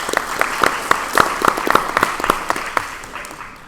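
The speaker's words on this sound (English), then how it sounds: "Let's give them all a round of applause." A small audience at a neighborhood association candidate forum claps for the candidates, a sparse patter of distinct individual claps that thins and fades within a few seconds.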